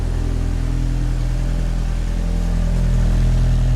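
A B6 Audi A4 engine runs at a steady cold-start idle, a loud, close, continuous low rumble with harmonic drone and no talk over it.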